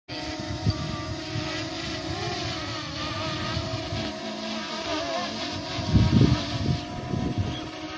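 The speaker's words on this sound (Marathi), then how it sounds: "ड्रोन फ्लाय केलाय आपल्या आता देवीच्या मंदिराचा ड्रोन शूट घेतोय." A drone flies near a hilltop temple of the goddess, its steady buzzing hum running throughout at moderate loudness, with a few louder low rumbles near the end.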